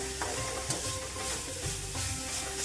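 Fenugreek leaves stir-fried over high flame in a pan, giving a continuous close sizzle with repeated scraping strokes of the spatula, no voices.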